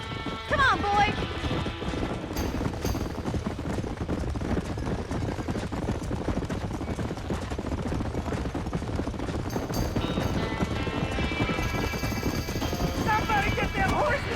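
Frightened horses trapped in a burning barn in Red Dead Redemption, with hooves clattering and whinnies over a dense, steady roar of fire and commotion, loud and continuous throughout.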